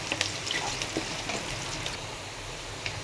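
Chopped garlic fries in hot oil in a wok, a faint, steady sizzle with scattered light crackles and pops from close by.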